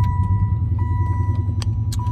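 A box Chevy with a 305 V8 engine idles with a steady, loud low rumble close by, with faint clinks and ticks over it.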